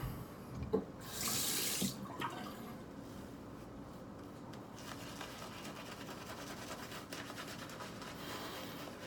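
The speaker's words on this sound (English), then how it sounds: "just agitate up. Hydrate and make a nice creamy lather." Water runs from a tap while shaving soap is hydrated and worked into a creamy lather, a faint, steady hiss with a louder splashing burst near the start.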